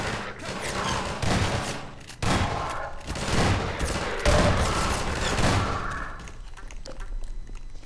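Gunfire and heavy weapon bursts from a fight against Combine soldiers in the game Half-Life 2, loud and sustained with repeated blasts and thuds across the whole stretch, easing slightly near the end.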